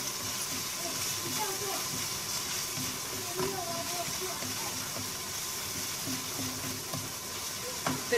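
Spinach and potatoes for an Indian-style aloo palak frying in a pan as they are salted and stirred, a soft steady sizzle with scraping and stirring clatter under a voice talking.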